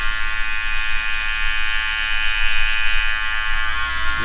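An electric hair clipper hums steadily and close during a buzz cut, a constant high-pitched motor buzz with slight pulsing as the blade moves through hair, with no talking.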